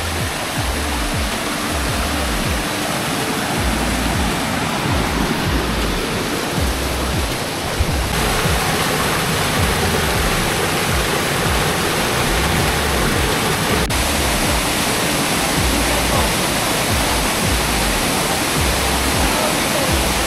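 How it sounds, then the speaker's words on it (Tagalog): A waterfall at Imugan, Pangasinan pours in a loud, unbroken hiss and rush, steady throughout with no other sounds standing out. "ito yung falls na ang ganda"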